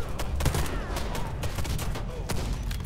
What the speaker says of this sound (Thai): มึงยิงอะไรกันเนี่ย